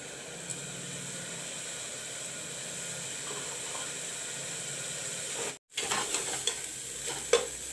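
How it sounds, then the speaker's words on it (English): Soyabean chunks fry and are stirred in a pan with chili powder and masalas, giving a steady close sizzle with scraping stirs, a brief dropout and a few sharper clatters near the end. "I have fried the soyabean, you can see."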